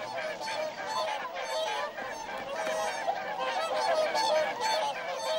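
A flock of whooper swans gives loud, continuous honking and bugling calls at a lagoon refuge after migration. The many overlapping voices are close and fairly loud, with no speech.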